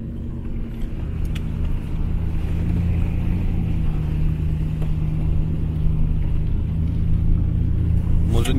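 A car driving along a road, with a steady engine drone and low tyre rumble close inside the cabin, holding constant throughout.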